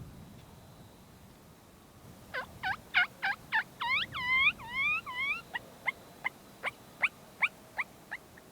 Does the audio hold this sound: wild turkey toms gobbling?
yes